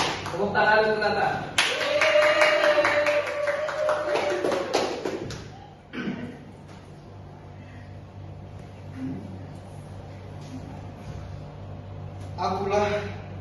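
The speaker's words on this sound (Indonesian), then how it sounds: "Tepuk tangan untuk Nata." A classroom of students claps for a classmate, with a burst of brisk clapping early on that fades into quieter room noise, then a brief return of claps at the end, with voices mixed in.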